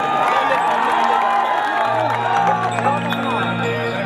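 At a Holi stage show featuring a Bhojpuri singer, a big crowd cheers, whoops and shouts with some clapping, mixed with amplified tonal sound and voices over the din, loud and continuous.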